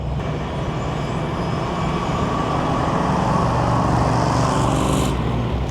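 A 1966 Ford Mustang Convertible driving down the road with a steady low engine rumble and road noise, constant and fairly loud throughout.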